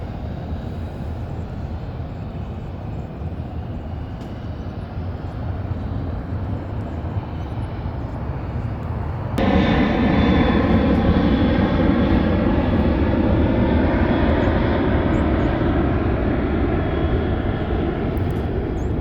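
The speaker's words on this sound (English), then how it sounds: "we're right also by the San Diego airport. So you would definitely will hear airplanes." Steady broadband roar of a jet airplane passing near San Diego airport, swelling louder partway through and holding a heavy rumbling drone to the end.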